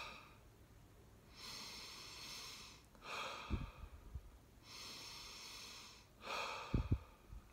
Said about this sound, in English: Breathe in through your nose, exhale.